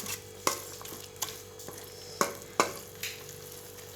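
A spoon stirs coriander into tomato rice frying in a pan, giving a soft sizzle under scattered sharp scraping knocks against the pan.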